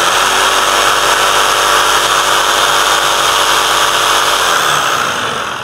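A power tool's electric motor runs steadily, drawing current from a POWERCELL portable power station at its highest speed setting; the loud, continuous whine holds throughout and eases slightly near the end, with no talking.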